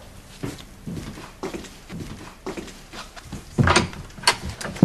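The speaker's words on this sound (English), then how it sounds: "Open the door." A door opens indoors with a handful of knocks and clunks, the loudest near the end, with no talk over it.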